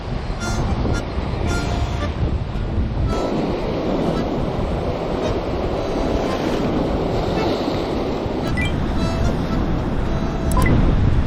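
Strong sea waves surge and break along the East Sea coast in a continuous loud roaring wash, heavily mixed with gusting wind buffeting the microphone throughout.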